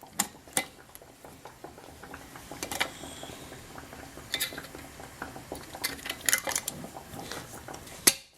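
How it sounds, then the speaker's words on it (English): Metal screw-on ring fitted back onto a glass jar of homemade dill pickles, heard as close, irregular clinks and scraping metal-on-glass clicks, with a sharp clank near the end. "the ring. Put it back on the jar here."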